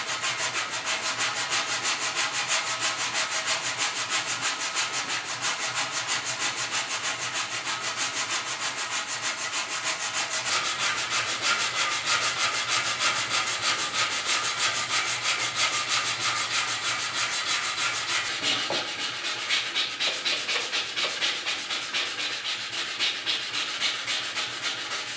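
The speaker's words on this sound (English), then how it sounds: "I'm just going to hit these with a little bit of 80 grit first, and then a little bit of 150" An engine block being hand-sanded with 80 grit sandpaper, a steady, close, continuous rasping scrub that runs without pause for the whole stretch, with no talk.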